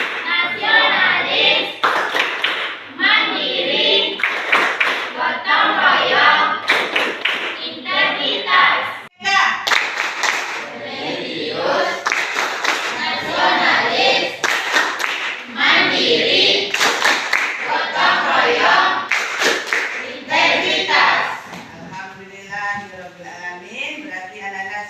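A classroom of children claps the PPK clap chant in loud, steady rhythmic bursts, with their voices chanting along and a teacher's voice in between, clapping continuing almost throughout.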